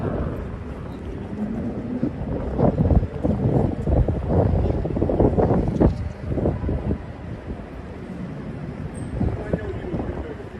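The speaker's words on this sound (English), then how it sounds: "the wind is absolutely brutal today" Strong wind whipping through the streets of Manhattan, a continuous buffeting roar on the microphone with a voice speaking over it.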